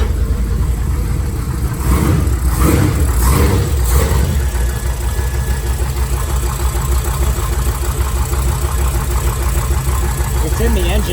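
A 440-engined Plymouth Coronet drag car runs steadily and loudly at close range, a rough rumbling idle with some knocking texture through the exhaust, and brief bursts of noise early on.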